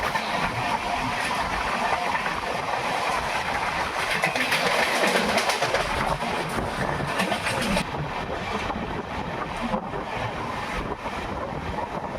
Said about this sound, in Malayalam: ഏതോ ഒരു ട്രെയിൻ ഹോണൊക്കെ അടിച്ച് സ്പീഡ് വരുന്നുണ്ട്